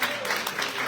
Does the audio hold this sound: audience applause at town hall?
yes